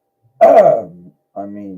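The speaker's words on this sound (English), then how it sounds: "sorry for all that clearing the throat and coughing that seems to happen in all my films that I make" A single loud throat-clearing cough close to the microphone at the start of a live stream, followed by a brief voiced grunt.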